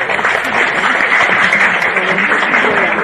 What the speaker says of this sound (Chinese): 这一段掌声欢迎两位